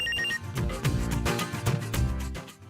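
A telephone rings in a home sitcom scene, its electronic trilling repeating loudly and steadily with no voices over it.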